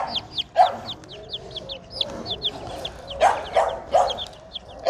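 Hatchery-raised chicks cheep in rapid high peeps while a hen clucks in short lower bursts nearby, a busy, close cluster of fowl calls with no voices.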